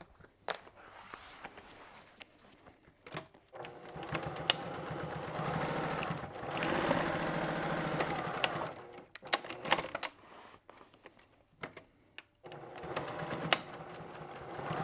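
A sewing machine stitching a double-layer seam on a foldover bag, running in several close bursts of rapid mechanical whirring separated by short pauses and faint handling noises.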